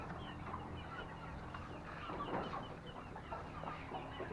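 Free-range native Thai chickens cluck softly and intermittently at a distance on a farm, mixed into a low, steady outdoor background with no talking.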